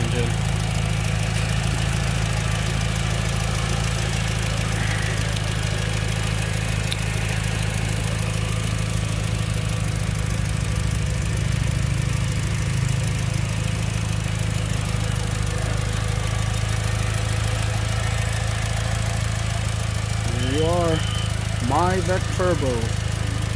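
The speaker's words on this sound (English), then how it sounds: "Bulletproof 4G63. Hear that engine?" A 2006 Mitsubishi Lancer EVO 9 MR with a turbo 4G63 engine idles steadily and close by for a long stretch, a constant low hum with a few brief rising blips near the end.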